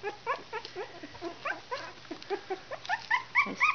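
Puppies almost three weeks old making a rapid string of high, thin yips and small barks with whimpers, close by and fairly continuous, growing a little louder toward the end.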